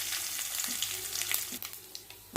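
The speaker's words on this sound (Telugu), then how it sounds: "పోపు వేగిందండి." Urad dal, chana dal, mustard seeds, cumin and dried red chillies sizzle in hot oil in a pan as a tempering, a steady close crackle with small pops.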